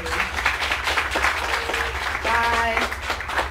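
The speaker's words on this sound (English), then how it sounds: "Thanks one last round of applause for Negin, please." An audience applauds at a game design community event, steady crowd clapping filling the moment while a voice speaks over it.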